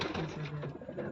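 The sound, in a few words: pigeons cooing in loft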